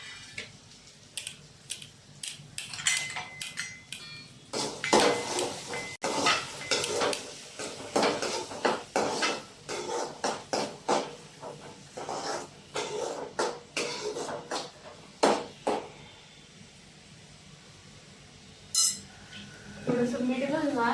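Onion and cabbage are stirred in a pan with a spoon, giving repeated scraping clinks and taps at an uneven pace, close and moderately loud, with a voice talking quietly between them.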